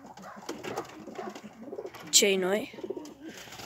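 Pigeons cooing in a loft where eggs are awaited, a single low throaty coo rising clearly midway, with someone speaking quietly before and after it.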